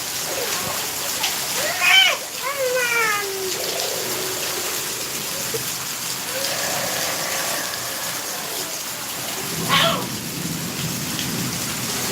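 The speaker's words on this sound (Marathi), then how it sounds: "अजून सुद्धा आभाळ खूप गरजत आहे" Heavy rain pours down steadily during a storm as thunder rumbles, with a voice talking over the constant downpour.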